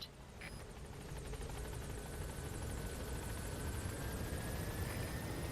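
A helicopter arriving in Metal Gear Solid V gives a steady rotor drone with a constant rhythmic thrum, holding at an even level throughout with no voices.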